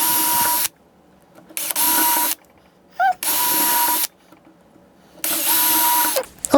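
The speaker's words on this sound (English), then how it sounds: "so let's drill it out." A power drill bores out marked screw positions on a model railroad benchwork leg spreader, running in three or four loud, steady bursts of a second or two each, separated by short pauses.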